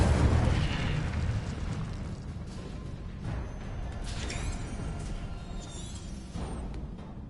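A fire spell cast in a Harry Potter video game gives a loud burst at the start, then a steady roaring, crackling blaze with a few sharper flares and swooshes further on.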